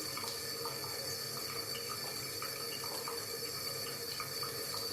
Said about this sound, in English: Next step is we're gonna wet our hands a little bit